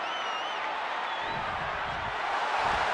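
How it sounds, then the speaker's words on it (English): A wrestling arena crowd at a John Cena match cheering, a dense, steady roar of many voices heard from a distance, with whistles rising above it. "The sound of this crowd is deafening, and he's asking for more."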